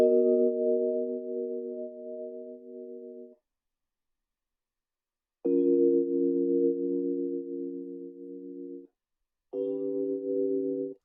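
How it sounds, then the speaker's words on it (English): Dry Rhodes electric piano with all effects removed, three sustained chords each held for a few seconds with silent gaps between, mellow and clean, no talking. "So we started off with a Rhodes piano."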